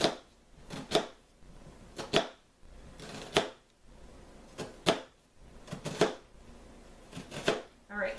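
Knife blade chopping through an onion for a fine dice, about a dozen sharp close board knocks in uneven clusters of two or three, clear and crisp with quiet pauses between.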